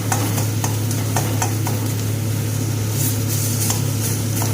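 A spatula stirs okra and tomato curry in a pan, making soft repeated scraping strokes over a gentle sizzle and a steady low hum.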